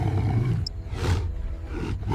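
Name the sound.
lion roaring in pain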